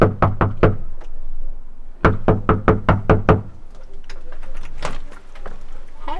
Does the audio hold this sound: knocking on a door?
yes